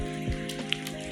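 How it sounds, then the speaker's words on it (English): Cream pours into a pot of shrimp chowder with broth and diced jalapeno as a soft, steady, trickling splash. It is faint, with a low electrical hum underneath. "Now we'll add our cream."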